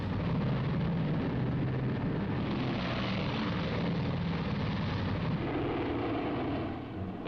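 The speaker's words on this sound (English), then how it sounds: "The last B-29 is airborne at 1540." Boeing B-29 bomber taking off, a loud continuous roar of piston engines and propellers that holds steady throughout and eases slightly at the very end, with no voices.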